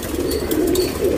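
A female tournament pigeon coos close by, a low continuous throaty cooing sustained across the short moment with faint background noise.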